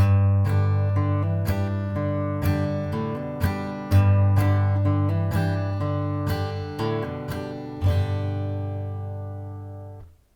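Acoustic guitar played in a clawhammer strumming pattern, steady rhythmic bass notes alternating with brushed strums, ringing out and fading at the end.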